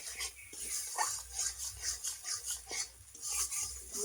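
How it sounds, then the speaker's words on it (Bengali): Spice masala with salt and ground coriander being stirred and fried in a pan, a soft steady scraping with a faint sizzle under it, fairly quiet and close. "দিয়ে ভালোভাবে মশলাটাকে কষিয়ে নেব"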